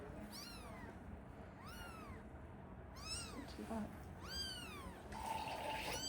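Day-old newborn kittens give four or five thin, high, rising-falling mews in a row, close by, while a person speaks quietly and water runs in the background.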